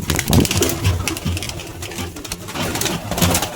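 Several pigeons kept for sale coo in a loft, low murmuring calls overlapping close by amid rustling and shuffling noise, with no one speaking.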